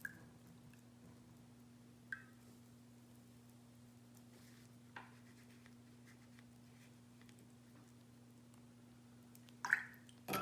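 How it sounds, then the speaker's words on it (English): A watercolor paintbrush swished and tapped in a water jar, with a few brief, faint splashy strokes spaced seconds apart over a quiet background hum. "So I'm gonna rinse my brush."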